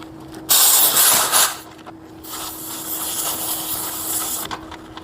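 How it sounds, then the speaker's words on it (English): Refrigerant gas escapes from a service port connection as it is unscrewed, producing close, harsh hissing bursts: a short strong spurt, then a longer steadier hiss, with light metallic fiddling between. "we can safely remove this connection to the service port. And it is scary for beginners because gas will come out while you're doing this"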